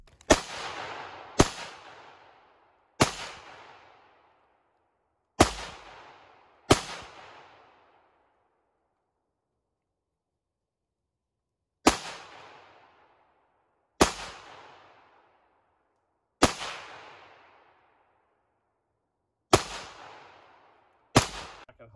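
FN P90 personal defense weapon firing single shots at targets on a range, ten sharp loud reports in two clusters with a pause between, each with a short decaying echo and no talk.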